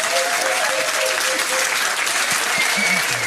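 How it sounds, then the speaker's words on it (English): A pub trivia crowd at The Yard breaks into loud, even applause for a winning team, a constant rush of many clapping hands with a voice briefly audible beneath it. "give him a round of applause"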